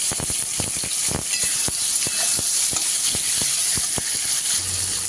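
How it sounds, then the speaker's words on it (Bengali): Eggplant slices fry in hot oil with a steady, loud, close sizzle and hiss, broken by repeated sharp taps and clacks of a utensil. "এবার বেগুনগুলো ভেজে নেব।"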